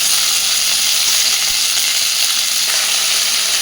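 Flat beans frying in a hot pan, a steady bright sizzle and hiss that stays loud and even throughout with no break.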